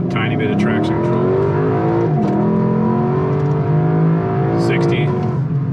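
A 2023 Lexus LC500 accelerates hard from a standing launch, its engine note climbing through rising revs and gear changes, loud and continuous from inside the car.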